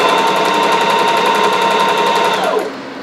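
A sewing machine runs a steady, continuous stitch along a quarter-inch seam in skirt fabric, back-stitching as it goes, with a loud, even mechanical whir that stops abruptly near the end.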